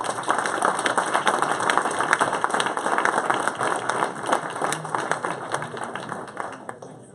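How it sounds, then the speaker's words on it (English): Audience at an urban air mobility panel applauds the panelists, continuous dense clapping at steady loudness that tapers slightly at the close. "Please join me in giving these folks a applause"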